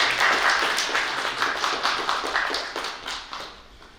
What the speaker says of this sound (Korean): 뜨거운 박수 한번 좀 부탁드리겠습니다